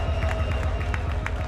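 Loud crowd at a freestyle rap battle final in the United States, cheering and shouting a steady rhythmic chant with clapping throughout, dense and continuous with no pauses.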